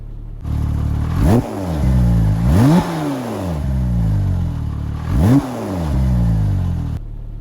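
A Porsche GT2 RS engine blips through three sharp revs that rise and fall back to a rough, vibrating idle, loud and close with no talking.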